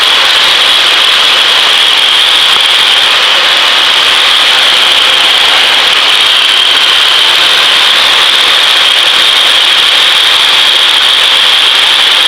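Steady loud drone of a Cessna 152 piston engine heard inside the cockpit in flight with the throttle eased back, a constant hum with a bright whine on top and no talk.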